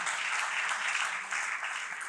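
Audience at a conference conclave in India gives a big round of applause, continuous dense clapping from a large crowd, moderately loud and sustained throughout.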